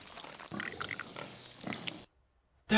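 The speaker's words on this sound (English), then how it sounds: "Bro, that's Mama Pig, bro" Cartoon pig oinking in a Peppa Pig horror parody, a run of snorting grunts for about two seconds, fairly loud, followed by silence and then a sudden loud burst at the end.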